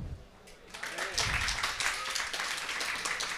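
Audience applause at a live magic show, a quiet patter of clapping building within the first second into steady, moderately distant applause from a small crowd.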